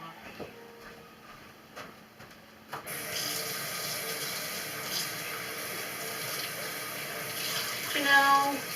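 A kitchen tap runs steadily while a green pepper is washed under it, with a quiet stretch at the start followed by a continuous close rush of water and a few handling bumps near the end.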